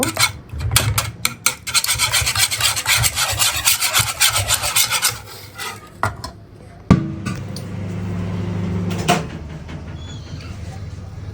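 Eggs beaten hard in a bowl for a vanilla butter cake: fast, rhythmic rasping whisk strokes close by for several seconds, pausing briefly, then a steadier scraping stretch with a few clinks against the bowl.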